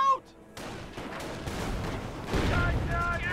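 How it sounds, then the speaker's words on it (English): Small arms gunfire in the World War II strategy game Company of Heroes, a rattle of distant and mid-range shots building into a louder fusillade, with voices shouting over the battle. "Enemy small arms fire!"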